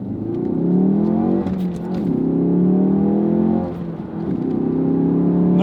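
A stock Ford Focus RS engine roars loudly up close through its exhaust, its pitch climbing through repeated accelerations with brief dips between gear changes.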